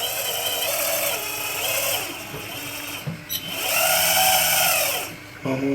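A Liebherr 956 excavator's hydraulic quick coupler releasing its bucket, with a strained hydraulic whine that rises and falls over steady machine noise, a couple of brief metallic knocks mid-way, and a clunk near the end.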